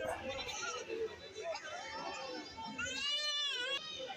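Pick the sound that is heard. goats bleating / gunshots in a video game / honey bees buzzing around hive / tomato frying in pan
goats bleating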